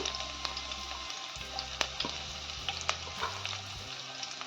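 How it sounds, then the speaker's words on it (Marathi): Crushed garlic and green chili frying in hot oil for a spicy crab curry: a continuous close sizzle and crackle with sporadic pops, a low hum running underneath, no voices. "तेल तापलं की आपण त्यात लसूण ठेचलेली टाकून घ्यायची आहे, हिरवी मिरची"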